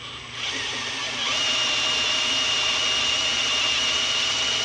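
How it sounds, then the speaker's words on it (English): A step drill bit bores through metal while modifying an LS water pump, a steady whining grind that rises and intensifies after a second, close, loud and unbroken with no speech. "So using a step bit, you have to be really careful because it'll start to bevel the edge when you go into the next one."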